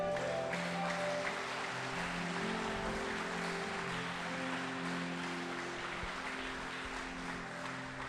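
A congregation at an Assembly of God church gives sustained applause, with dense clapping filling the room throughout and a few tonal voices or music underneath, fairly faint and distant.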